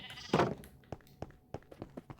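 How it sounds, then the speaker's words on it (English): A spawned sheep in a video game gives one loud bleat near the start, followed by a string of soft, scattered clicks and taps. "I've never tried to spawn sheep in, you know, this fast before"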